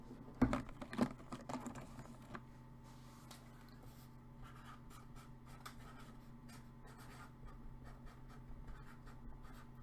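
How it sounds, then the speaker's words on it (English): Pen writing on a trading card, soft scratchy strokes and faint taps, quiet and close, with a low steady hum underneath. "Let me see if I can write something here."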